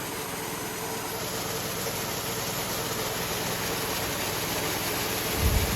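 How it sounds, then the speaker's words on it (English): A farm tractor hitched to a fertilizer spreader idles in a field, giving a steady, loud, continuous engine drone with no break and no talking. "the tractor here, which I actually have to shut off briefly"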